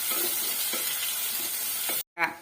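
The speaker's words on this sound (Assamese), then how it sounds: "তেলখিনি ধুনীয়াকৈ গৰম হোৱাৰ পিছত আমি ইয়াত পিঁয়াজ, দি দিলো।" Onion frying in hot oil inside an earthenware clay pot, a soft steady sizzle with a few gentle stirring scrapes, cut off abruptly near the end by a brief sharp knock.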